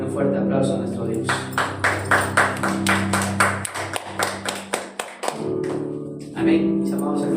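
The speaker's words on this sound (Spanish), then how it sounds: "Demos un fuerte aplauso a nuestro Dios." A church congregation claps together in a rapid, even rhythm of loud applause, with sustained singing or organ tones underneath that drop out briefly before returning.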